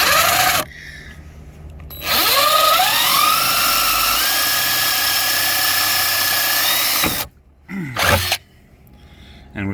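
A power drill bores into a broken license plate bolt, its whine rising in pitch as it bites and then holding steady for several seconds, loud and close, with short stops and restarts before and after.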